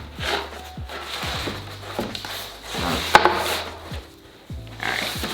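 A wooden picture frame is set down on craft paper, giving soft knocks and rubbing scrapes close by over a faint hum.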